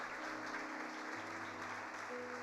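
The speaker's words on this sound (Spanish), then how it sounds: "Dele un aplauso al Señor." A church congregation applauds during a Spanish-language service, a steady wash of clapping from many hands, sustained and fairly distant with a faint background hum.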